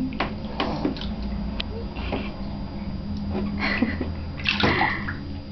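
A baby splashes and sloshes about in bath water, making a steady close wash of water sounds with an adult's voice speaking over it now and then.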